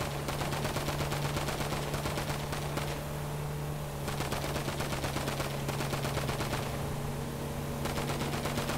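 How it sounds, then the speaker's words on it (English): Rapid automatic gunfire from GTA 5 Online, fired at a car's tyres: loud continuous bursts of shots over a steady engine-like hum, with a couple of short pauses between volleys and no talk. "I'm trying to shoot out his tyres."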